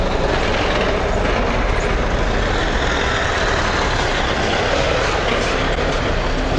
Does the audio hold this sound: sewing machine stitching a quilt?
no